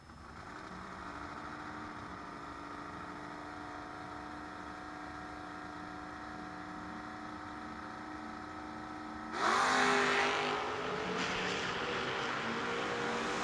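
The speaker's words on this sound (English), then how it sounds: "Both of these cars on small tires doing wheelies." Footbrake drag racing cars on small tires idle in a low, steady harmonic drone, then launch in a sudden loud roaring surge that eases into a sustained engine howl, with no talking.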